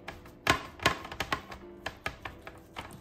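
A knife cuts through a cauliflower crust pizza on a board in a home kitchen, making a run of crisp, close chopping thuds and taps in an irregular rhythm with no talking.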